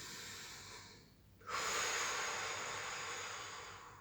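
A strong exhale during a guided energizing breathing exercise, a steady breathy rush of air after a brief quiet intake, lasting several seconds and close to the microphone with no talking.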